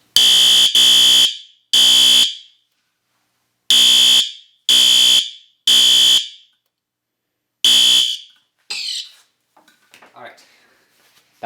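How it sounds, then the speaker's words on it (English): System Sensor Spectralert Advance fire alarm sounding at high volume, very loud close repeating horn blasts in an uneven temporal pattern, seven bursts over about eight seconds, then fading handling noise and faint movement. "Because I heard this is the loudest alarm right here."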